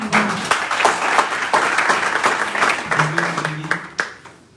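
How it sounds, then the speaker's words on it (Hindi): An audience at a business team meeting claps loudly, a dense burst of hand claps sustained for several seconds, close and energetic, with some voices mixed in. "तो एक जोरदार तालियां होंगी"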